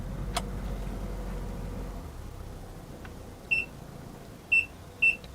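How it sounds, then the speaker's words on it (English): A car's rear ultrasonic parking sensor gives three short, clear electronic beeps near the end, spaced about a second apart, over a low, quiet cabin hum. "you're going to hear a loud beeping in the background. And that's just my ultrasonic parking radar sensors"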